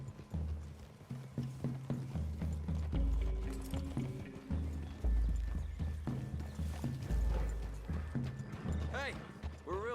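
Horses' hooves clip-clop steadily on the ground in a video game, close and rhythmic, with a horse whinnying and voices talking over the trotting.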